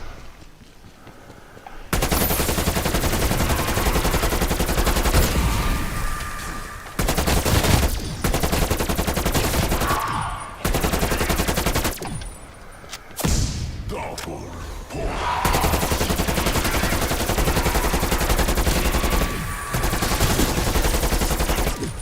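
Rapid rifle gunfire fills a Call of Duty Cold War match, loud near bursts of automatic fire running in long stretches with brief pauses between them, under scattered game sounds.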